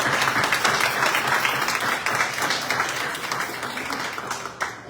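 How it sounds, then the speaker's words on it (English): A public library gathering in Hartford, Connecticut breaks into sustained audience applause, with many hands clapping in a dense, steady wash that begins to thin out toward the end. "We can applaud for that."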